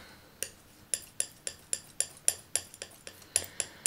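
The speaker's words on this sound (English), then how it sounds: "So I'm gonna take some ultramarine blue and a fair amount of titanium white." Ultramarine blue and titanium white paint mixed on a palette: a steady series of about fourteen crisp taps and clicks at a brisk, even rhythm, close and clear with no talking.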